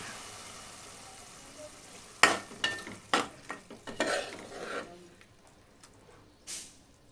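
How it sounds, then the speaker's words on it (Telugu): A spoon stirs mushroom masala curry with chopped coriander in a pan, a few sharp scraping strokes and clanks over a soft simmer, followed by quieter pot noises. "కొత్తిమీర తరుగు కూడా వేసుకొని అంతా ఇలా ఒకసారి కలిపి స్టవ్ ఆఫ్ చేయాలి"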